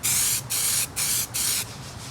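Paint is sprayed onto a fiberglass panel in short bursts, four bright hissing passes separated by brief gaps, close and fairly loud over a low background hum.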